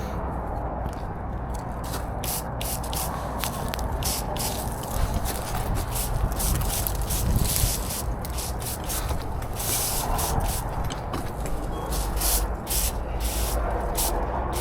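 A Stihl SG 20 backpack sprayer hisses out a coarse spray in repeated bursts, close and fairly quiet, with rustling and footsteps in between and no talking.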